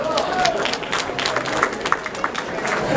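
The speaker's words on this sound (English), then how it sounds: "That's worth an applause, right?" At a Valley Patriot 15th anniversary party speech, an audience breaks into scattered clapping, sharp nearby claps mixing with a talking voice over a roomy murmur.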